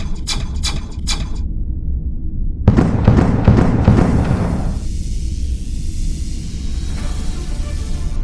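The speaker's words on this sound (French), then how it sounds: "Bon, pointez les canons sur les armes et feu à volonté." Spaceship cannons firing at will in an audio drama, a burst of rapid crackling blasts and booming explosions that swells loudly midway, then trails off into a rumbling, hissing decay.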